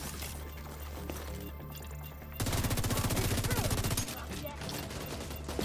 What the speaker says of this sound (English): Trust me, I'm shooting him.